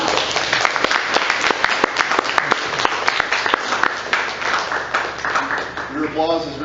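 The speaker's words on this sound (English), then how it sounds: "your applause is very gracious and appreciated." Audience applause after a reading at a spoken-word event, with sharp individual claps layered into a steady round that fades toward the end as a voice begins speaking.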